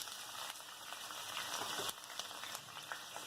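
Capsicum, spring onion, chopped chillies, garlic and ginger go into hot oil in a pan for vegetable Manchurian, giving a continuous soft sizzle with light crackles and stirring noises, fairly faint and with no talk.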